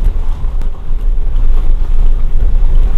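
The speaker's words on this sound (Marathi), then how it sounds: "आणि आता इथे घाट संपला आणि एकदम गार वारा घुसला, गार वारा." Cold wind gusts at the end of a mountain ghat on the NH166 highway near Sakharpa and Amba, a loud, steady low rumble buffeting the microphone throughout.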